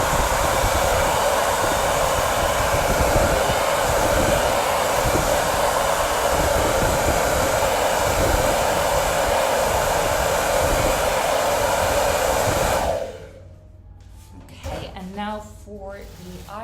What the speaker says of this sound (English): So let me just hair dry this, and sorry, this is going to be loud.